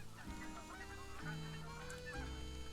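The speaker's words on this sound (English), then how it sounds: "They're geese." Geese honk in the hunting video game TheHunter, a few distinct nasal calls over a steady outdoor ambience with a low hum, fairly faint and without talk.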